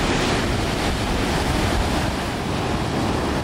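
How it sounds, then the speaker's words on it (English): An ocean wave breaks on a Miami beach, a loud continuous roar of surf with wind buffeting the microphone throughout. "Here comes the wave."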